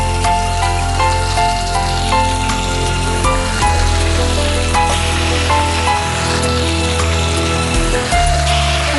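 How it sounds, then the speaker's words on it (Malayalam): Chicken pieces, about 1.5 kg cut small, sizzle steadily in a hot pan while being sautéed on a cooking show, a continuous close crackle and hiss with a music-like tonal background. "ചിക്കൻ്റെ പീസസ് ഇട്ടിട്ട് ഒരു 5 മിനിറ്റ് സമയം ഇങ്ങനെ വഴറ്റണം"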